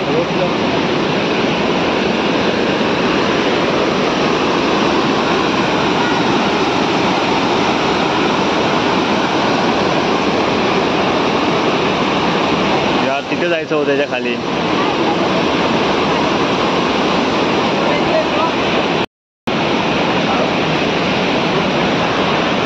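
A large waterfall in Konkan, next to a glass bridge, roars as a loud, unbroken broadband rush throughout, with a person speaking briefly over it.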